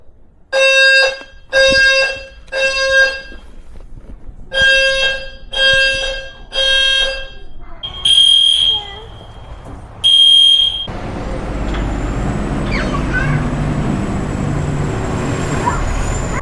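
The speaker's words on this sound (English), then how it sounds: "So the fire alarm went off for a good like 20-something minutes." Fire alarm blares at a Marriott resort hotel in Orlando, with a series of loud, evenly repeating electronic tones, followed by a sustained alarm tone and then a broad outdoor rumble with traffic-like noise.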